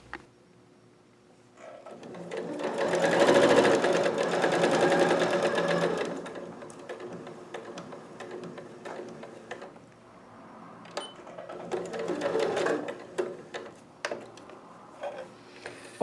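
A sewing machine runs in bursts stitching a seam on an octagon floral quilt block, whirring rapidly, pausing, then resuming with short clicks and handling noises nearby, no voices.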